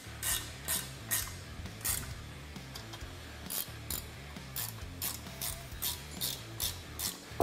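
A hand ratchet tightens the winch mount bolts on a Polaris Ranger XP 900. It clicks close up in repeated quick bursts, steady strokes with short pauses between them, and no talking.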